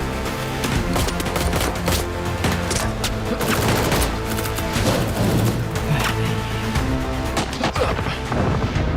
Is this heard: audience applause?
no